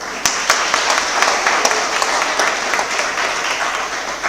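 An audience at an ITI institute event claps together, a dense, steady burst of applause that holds evenly for several seconds with a few sharper individual claps standing out.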